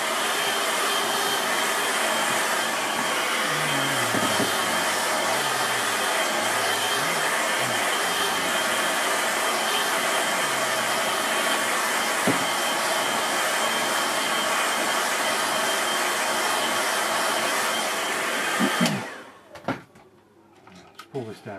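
A hair dryer blows steadily and loudly on a wet watercolour landscape painting for most of the stretch, a constant broadband roar under occasional low voice murmurs, then switches off abruptly, leaving quiet room noise and small handling clicks.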